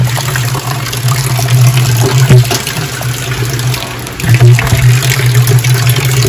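Rainwater gushes steadily into a collection drum for watering plants, a loud close rushing pour with a constant low hum and brief surges.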